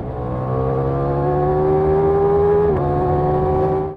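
A Ducati Multistrada V4 Granturismo engine of 167 horsepower hums steadily and loudly at close range, its pitch rising slightly, dipping briefly, then settling into a sustained whine.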